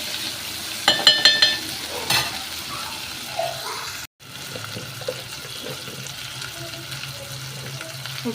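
Raw prawns frying in a pan for a home prawn curry, a low steady sizzle with a few clinks of a utensil early on and a brief cut midway.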